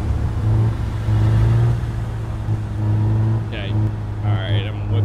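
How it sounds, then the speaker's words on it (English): A car engine in the business simulation game Big Ambitions, a steady droning hum that rises and falls slightly as the car drives, with brief chirpy game sounds near the end. "Honestly, the car sounds pretty good, too, for what it is."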